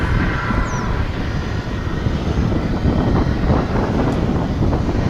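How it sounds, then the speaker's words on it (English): American Airlines Airbus A319 on approach to DFW International Airport, a loud continuous jet roar with wind rumble at the microphone, holding steady throughout with no voices. "Comes a plane finally."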